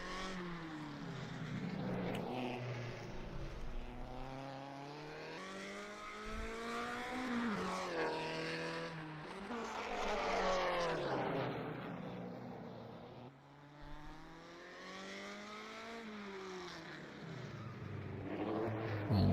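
Several 1950s Grand Prix race cars roar at Pescara in a racing video game, with steady engine notes rising and falling through gear changes as they run close together, loud and continuous throughout.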